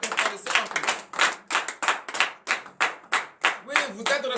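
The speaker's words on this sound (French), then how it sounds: "Donnez l'acclamation à l'Éternel ce matin." A church congregation at a morning prayer service claps in a steady, rhythmic beat of sharp, evenly spaced hand claps, loud and close, with voices mixed in underneath.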